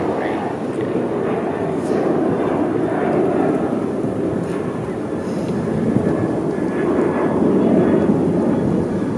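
A passing airplane near an airport roars steadily overhead as a broad, sustained rumble for the whole stretch, swelling slightly toward the end, with a voice talking faintly beneath it.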